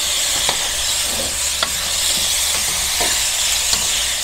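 Pork belly seasoned with fine ground pepper sizzles steadily in a frying pan while being stirred, constant loud hiss with occasional faint scraping taps of the utensil, close up and without talk.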